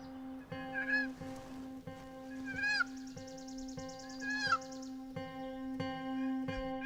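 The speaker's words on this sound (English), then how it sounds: "Micheon's Uncle John uses a number of turkey calls to try and entice any nearby turkeys to come closer." Hand-operated turkey calls sound during a hunt, with repeated short yelps and raspy clucks in an uneven rhythm over a steady background hum, close and fairly loud.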